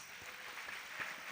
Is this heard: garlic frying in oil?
no